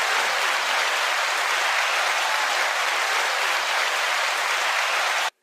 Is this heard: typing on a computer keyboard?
no